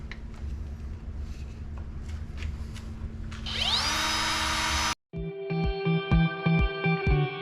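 Power tool cutting through acrylic, a buzzing whine that rises into a loud, bright high-pitched cutting screech, then a short gap before a humming motor restarts with rhythmic pulsing.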